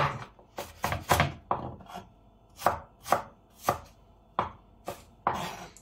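An onion is chopped with a knife on a board, about a dozen crisp, uneven thuds and crunches in quick succession, close and clear with no talking.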